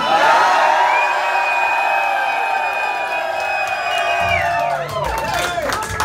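Live club concert crowd at the Empty Bottle in Chicago cheering, whooping and screaming loudly and continuously for a rock band on stage, a dense sustained roar with shouts rising near the end.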